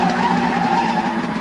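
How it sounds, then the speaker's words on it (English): A screaming sports car skids across gravel, tires squealing as the wheels spray dust and stones, a dense, continuous roar of grinding friction and engine noise holding loud and steady throughout. "They threw themselves out of the way of the screaming sports car as its wheels sprayed dust and gravel in all directions."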